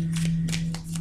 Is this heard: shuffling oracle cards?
yes